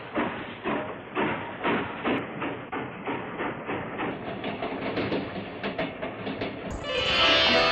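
A train in a scene from the film Pakeezah rolls along with a rhythmic clickety-clack of wheels over rail joints, steady and fairly loud, ending with a rising hiss.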